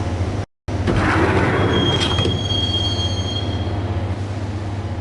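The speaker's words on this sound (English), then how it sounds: "the train doors had already shut behind me, and I was in for the ride" Train ride in the game Max Payne: a steady low rumble of rolling carriage wheels with a long, thin metallic squeal rising over it for a few seconds, continuous and close.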